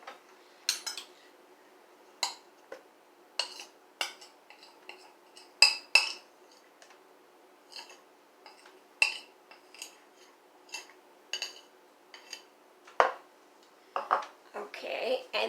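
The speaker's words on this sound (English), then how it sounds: "I'm going to take a bowl. I'm going to add 2 cups of peanut butter." Peanut butter, two cups of it, goes into a bowl with a spoon, giving a run of sharp clinks and scrapes of utensil against the dish at an irregular pace, close and fairly quiet with no talk over it.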